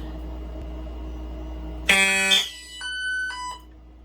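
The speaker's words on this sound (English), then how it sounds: "I'm going to go ahead and activate the SK Photo" A Silent Knight 6808 fire alarm system goes off after an SK Photo smoke detector is tripped, a sudden loud electronic horn blast followed by a couple of shorter, quieter tones over a steady low hum.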